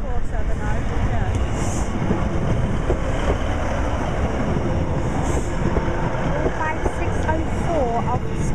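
Skegness-bound passenger train passing close by with a steady loud rumble and clattering wheels, high squeals at moments, and people talking over it.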